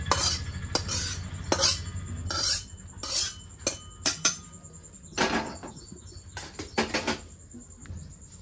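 Roasted coconut scraped out of a wok onto a plate while making Marathi ladoos, a series of close, irregular metallic scrapes and rustling strokes with short pauses between them, no voices.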